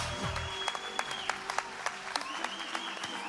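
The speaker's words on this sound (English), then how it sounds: "Big round of applause for Chase Webster, everyone." Crowd applause breaking out at a trampoline wall competition, a steady wash of clapping with sharp individual claps and a few whoops, fairly distant and filling the whole moment.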